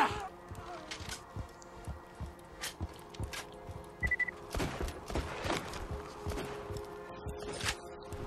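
Bursts of gunfire from the video game Borderlands 2 crack out repeatedly across the stretch, sharp, fairly close and irregular, over a busy background of game noise.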